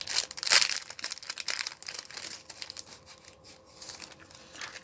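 Packaging of a parcel received through a shabby-style mailbox exchange is opened, with loud paper crinkling and tearing bursts at first, then softer rustling and handling of the wrapping.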